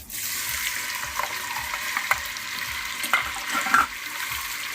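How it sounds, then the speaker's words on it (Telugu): Paneer pieces frying in hot oil, giving a steady bubbling sizzle with a few brief louder crackles, close and without talk. "ఇక్కడ ఆయిల్ అయితే హీట్ అయిపోయింది కదా పన్నీర్ అయితే ఫ్రై చేసుకుందాం"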